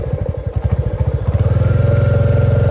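A Bullet motorcycle engine, the bike on a rough road in Nepal, first thumping unevenly then settling into a steady, rapid, loud close-up putter.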